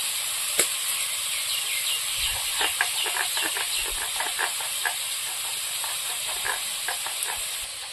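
Ridge gourd sautés in a hot pan, a steady bright sizzling hiss with scattered small pops and crackles, close up and with no talk.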